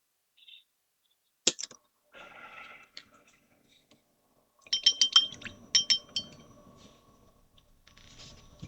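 Brush or stick clinking and scraping against a small glass jar while paint is stirred, in a run of quick close taps and rattles separated by quiet gaps, with soft murmured talk at times.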